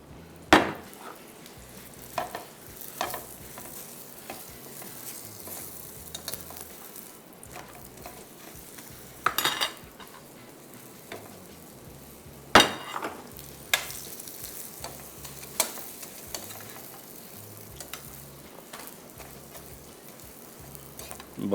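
A paratha fries in a little oil for a beef Bihari roll, with a low steady sizzle under sharp intermittent clanks and scrapes of a utensil against the pan, while a voice talks occasionally.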